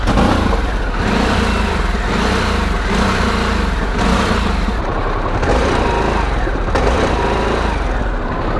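A Harley-Davidson Sportster S engine revs loudly and close up in a series of repeated throttle blips, each held and cut off at a limited rev ceiling, roughly once a second.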